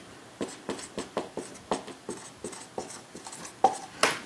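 Pen or chalk taps and scratches out a math formula, a close run of short, crisp strokes in an uneven rhythm, ending with a couple of louder scrapes, with no speech.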